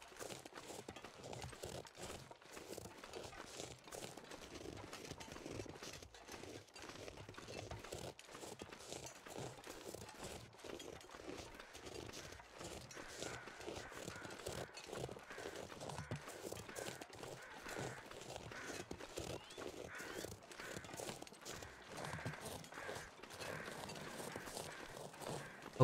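A deer moving nearby in a survival video game, a quiet, steady run of hoof clops and footfalls that keeps a regular rhythm throughout.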